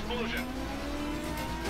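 Car engine droning steadily with a rising tire squeal as the car drifts in the Mech Me Wet demo disc video game, while a voice talks over it.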